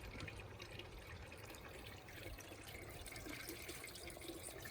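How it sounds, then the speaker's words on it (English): Steady running water trickles and splashes continuously through a PVC pipe in a vertical NFT aquaponics system, a soft watery flow with no voices. "the running water is going all the way down and filtering out back into the tub"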